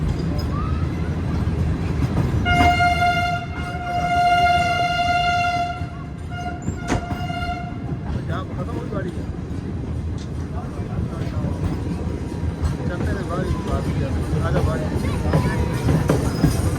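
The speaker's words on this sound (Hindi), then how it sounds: "तो 4:15 बजे हमारी ट्रेन अप्रोच बना रही है जो रेलवे स्टेशन पर" Train arriving at a railway station on a Thar Desert route from Karachi toward the India border: loud sustained rumble of rolling wagons with a long multi-tone horn blast early on and talk over the noise.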